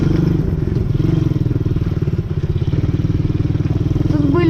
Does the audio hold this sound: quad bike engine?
yes